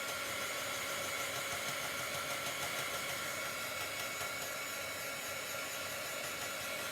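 A hair dryer blows steadily to dry chalk paste on a Chalk Couture transfer, a constant, fairly quiet whoosh with a low motor hum and no talking.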